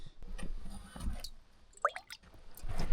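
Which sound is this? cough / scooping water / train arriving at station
scooping water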